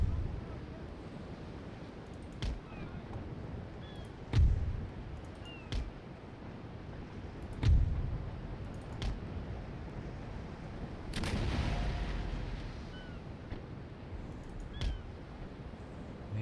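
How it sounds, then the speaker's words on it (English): Scattered small arms fire and cannon shots in a naval battle from Empire Total War, isolated distant cracks and thuds spread irregularly over a low steady ambient bed with a brief surge of noise midway. "Small arms fire and point blank shots take their toll."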